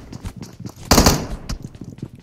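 A quick rattle of close, rapid gunshots in a PUBG Mobile match, with one strong burst in the middle and lighter shots on either side, all within a couple of seconds.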